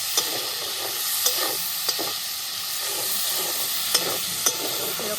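Shrimp fry lightly in a pan for a shrimp curry with yam, a constant hiss of oil broken by several sharp clinks of the spatula as the pieces are turned.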